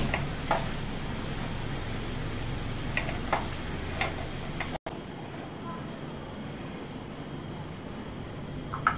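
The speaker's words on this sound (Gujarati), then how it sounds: "આ બધી જ વસ્તુઓને બરાબર રીતે મિક્સ કરી લઈશું." Sabudana khichdi is mixed in a pan with sugar and crushed peanuts, giving a steady, close, hissing shuffle that runs unbroken, drops off briefly midway, then continues a little quieter.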